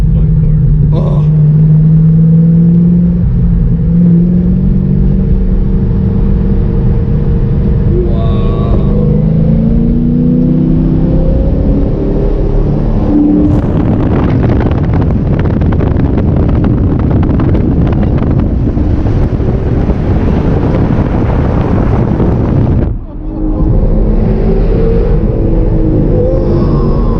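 A straight-piped 2006 Ford GT roars loudly through a tunnel, a heavy rumbling engine note that swells and resonates close by, with wind buffeting and people talking over it.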